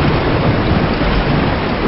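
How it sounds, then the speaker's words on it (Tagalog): Heavy rain roars loud and unbroken in an animated Filipino scene, a thick close wash of downpour with a low rumble underneath and no voices. "Lumalakas na yung ulan eh."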